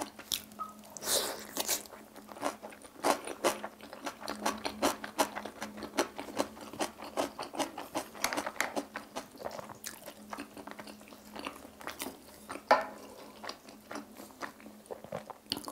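A kimchi dumpling is eaten up close, mukbang style: soft bites followed by a long run of wet, steady chewing and light crunching.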